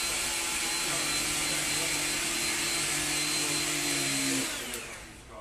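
Bosch cordless vacuum cleaner runs on its turbo setting, a loud, steady close-up whir with a tonal hum that holds for several seconds, then drops as the motor winds down near the end.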